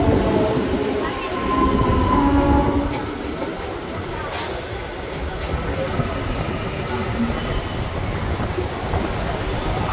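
An MMTS local train running from Falaknuma to Lingampally in Hyderabad gives a continuous loud rumble with rattling carriages and the occasional squeal or clatter of wheels. Faint voices can be heard inside the coach.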